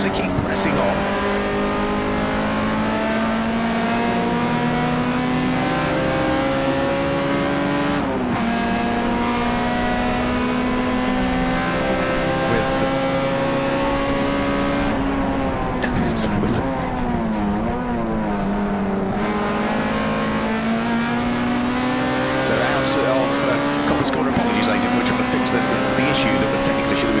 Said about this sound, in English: Start-finish line, Andrew Windmill still continuing to lead the race